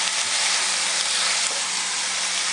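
Three medium chopped tomatoes hissing and sizzling in a hot pan while a pot roast is being made, a loud, dense, steady sizzle with nobody speaking.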